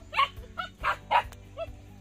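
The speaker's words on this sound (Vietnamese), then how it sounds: "Đây, gia đình chó trắng các bạn. Đấy, rất nhiều chó con các bạn." A family of white fluffy dogs and puppies barks close by in a series of five short, sharp yaps spaced at a steady rhythm, with no talk.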